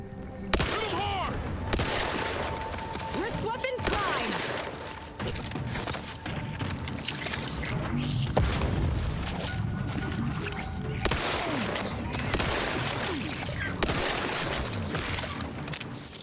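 Gunfire in the video game The Outer Worlds 2, with rapid bursts of shots and impacts, some dense and sustained, mixed with game sounds throughout.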